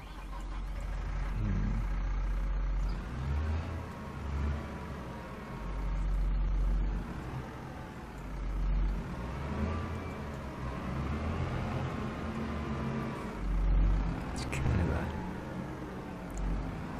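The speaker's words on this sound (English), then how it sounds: "let's waddle on down onto our smaller tractor here" Tractor engine in Farming Simulator 25 rumbling steadily at low pitch throughout, with faint game vehicle noise and light speech now and then.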